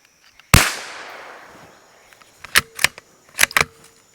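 A Savage MKII FV-SR .22LR rifle fires a single sharp shot while squirrel hunting near an oak, with a long fading tail, followed by a few softer clicks and rustles.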